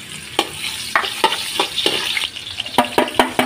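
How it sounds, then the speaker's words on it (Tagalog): Garlic sautéing in a pan for bopis, with a steady frying sizzle broken by repeated scraping stirs, close and fairly loud. "isusunod na po ni Kaelmer ay ang bawang guys."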